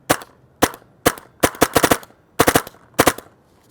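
Paintball marker fitted with a Techt Cyclone loader firing close up, a series of sharp pops in uneven bursts, single shots and quick doubles and triples, loud and with no voices over them.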